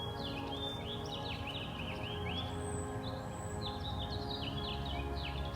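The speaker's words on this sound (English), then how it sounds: "There's something special about waking up with the birds." Birds sing at sunrise on a golf course, a stream of faint, overlapping chirps and whistles over a steady low background rumble.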